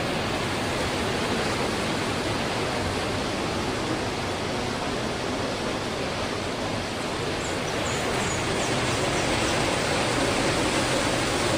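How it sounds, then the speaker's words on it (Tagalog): A strong river current rushes at a tourist spot in Columbio, Sultan Kudarat, giving a dense, loud, unbroken roar of water that stays steady throughout, close by and with no voices. "Ito, ang lakas ng agos."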